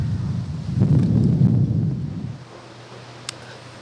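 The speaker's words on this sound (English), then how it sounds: "It's really windy right now." Strong wind during a spring bear hunt buffets the microphone outdoors with a heavy, low rumbling gust that then drops to a calmer, quieter hiss.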